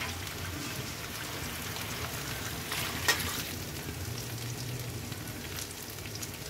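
Liquid saved from rinsing the masala bowl goes into a pan of poppy-seed chicken curry, giving a steady broad sizzle and bubbling hiss throughout, with one brief clatter near the middle and a sharp knock at the end.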